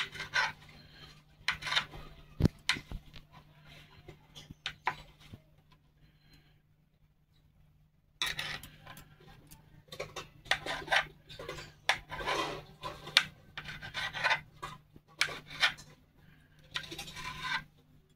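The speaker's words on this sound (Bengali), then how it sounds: "পনিরটা বক্স বক্স করে কেটে নিচ্ছি।" Paneer being cut into cubes on a board, with bursts of knife taps and scraping in two stretches separated by a quiet pause, close and fairly loud, with no talking.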